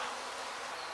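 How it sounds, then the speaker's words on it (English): A swarm of honey bees gathers on a branhigh in a tree, a continuous dense buzzing drone, steady and fairly faint, with no talking. "It's a colony of bees swarming, and they're gathering on this branch while I've been stood here."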